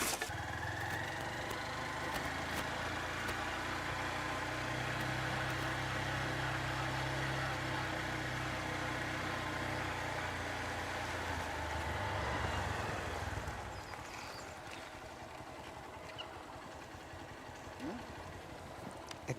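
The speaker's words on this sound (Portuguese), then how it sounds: "Eu vou ligando a moto lá." A motorcycle engine idling steadily at a low rumble for most of the stretch, then cutting out and leaving quieter background noise, with people talking faintly.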